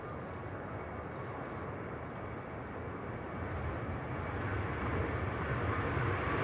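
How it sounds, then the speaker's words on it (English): A Ryanair airliner rolls down the runway and lifts off from Manchester Airport, a steady broadband jet roar heard from a distance that slowly builds in loudness, with no voices over it. "Ryanair to Berlin on the roll here, just lifting off"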